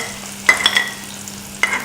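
Small onions sautéing in a pan for a brinjal chutney, with a low frying hiss under a few sharp metallic clinks of a spoon against the pan, close and distinct.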